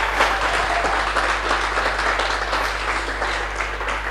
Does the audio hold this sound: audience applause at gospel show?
yes